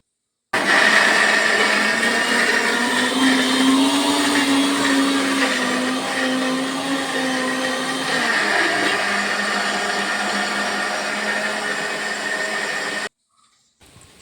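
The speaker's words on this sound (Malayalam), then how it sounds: "ഉള്ളിയൊക്കെ വെന്തത് വീണ്ടും എടുത്ത് മിക്സിയിലിട്ട് അരച്ചെടുക്കുക." A mixer grinder whirs continuously, grinding cooked onions into a paste for onion lehyam, loud and close for about twelve seconds before cutting off abruptly, with no talking.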